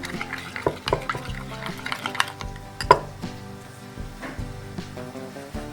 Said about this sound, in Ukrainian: Перемішуємо гарно.